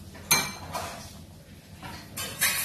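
A lid is set over fish cooking in a pan, with several sharp metallic clinks and clatters near the start and again toward the end, over a faint background hiss.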